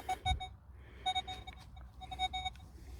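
Legend WHP PRO metal detector in the field sounds several short electronic signal tones in separate bursts, quiet and clean, over faint ambient noise.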